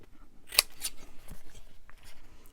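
Scissors snip paper while a page for a Flower Fairies book project is cut out, with one sharp, close cut followed by a second quieter snip and faint rustling afterward.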